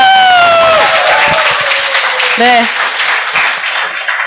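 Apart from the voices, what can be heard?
audience applause at a lecture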